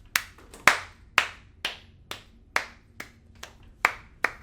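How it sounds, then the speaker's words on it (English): A person claps by hand while playing Kerbal Space Program, giving about ten sharp, close claps in an uneven, unhurried rhythm with no other sound between them. "I'm clapping for you, sir."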